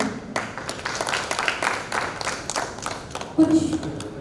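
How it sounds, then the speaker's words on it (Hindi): An audience claps in welcome as a guest takes the stage at a drama event, a steady spatter of applause from a modest crowd that runs throughout, with a brief louder burst near the end. "जोरदार तालियों से स्वागत हो।"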